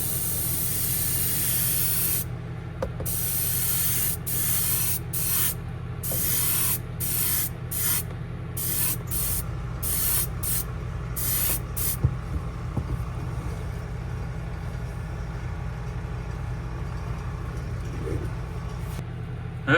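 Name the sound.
spraying transparent dark brown paint onto a shad fishing lure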